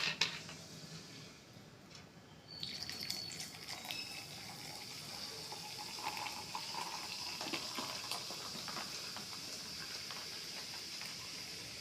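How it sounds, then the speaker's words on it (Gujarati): Soda pours into a lemon shikanji drink made with lemon juice, sugar and spices, a faint, steady fizzing pour after a brief quiet start, heard alone at low volume. "અને હવે આપણે તેમાં સોડા નાખીશું"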